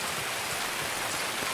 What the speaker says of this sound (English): it's raining like an absolute mother trucker